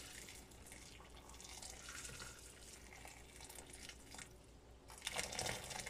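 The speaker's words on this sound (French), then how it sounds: "je vais mettre l'eau bouillante" Boiling water poured into a pan holding chicken in tomato sauce, a steady close splashing stream with a louder gush toward the end.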